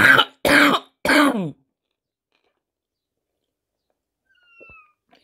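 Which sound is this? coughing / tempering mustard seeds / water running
coughing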